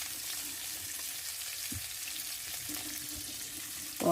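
Lamb chops fry in a pan on a small campervan stove, giving a soft, steady sizzle with a few faint clinks, no talk, and a brief louder bump at the very end.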